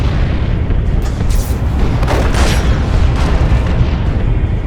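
Heavy artillery strike in Dawn of War II Chaos Rising, a dense, continuous roar of booming blasts that stays loud and close throughout with no voices.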